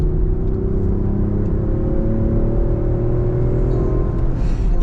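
A new Range Rover Sport in dynamic mode accelerates. Its engine and exhaust give a loud, close, continuous drone whose pitch climbs steadily with speed.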